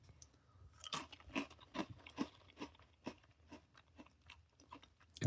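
Close, quiet crunching as someone chews an Oreo sandwich cookie, a steady series of crisp bites and mastication noises with no talking.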